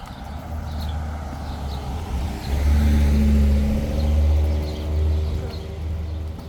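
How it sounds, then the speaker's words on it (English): FedEx delivery truck driving past on a residential road near a school, its engine rumble rising loud and close in the middle and then easing away. "Did you see that FedEx truck go by?"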